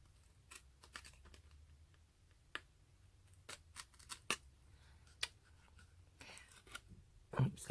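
Scissors snipping decoupage paper away from the edges of a vintage-style craft box, giving scattered sharp close clicks and snips with quiet gaps between them and a soft thump at the end.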